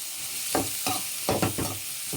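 Garlic and onions fry in a pan with a soft, constant hiss, broken by about six short scraping strokes as a spoon stirs them.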